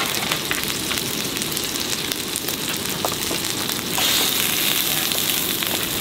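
Scallops and vegetables cooking over a camp stove at a campsite, with a continuous crackling sizzle that grows slightly fuller and smoother in the last couple of seconds, close and unaccompanied by talk.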